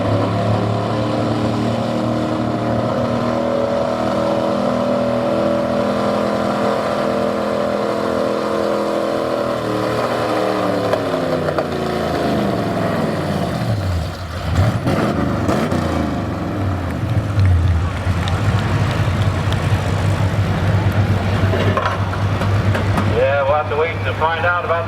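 A 2012 Dodge Ram 2500 diesel truck pulls a sled down the track at a truck pulling event. Its loud, sustained engine roar swells and sinks in pitch as the throttle changes, and a voice carries over it at times.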